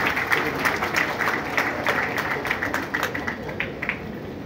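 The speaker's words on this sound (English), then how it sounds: "I think this deserves a round of applause." Audience at a formal commemorative address applauding in a hall; a steady round of clapping, moderately loud and fairly uniform, sustained for several seconds.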